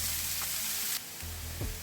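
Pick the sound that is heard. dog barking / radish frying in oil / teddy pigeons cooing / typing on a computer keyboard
radish frying in oil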